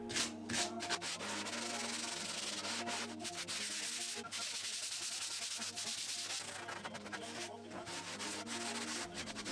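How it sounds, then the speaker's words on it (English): Hand sanding of a pine scaffold-board tabletop with 120-grit paper, a continuous close rasping rub in steady back-and-forth strokes with a few short pauses. "I did the final sanding by hand at 120 grit."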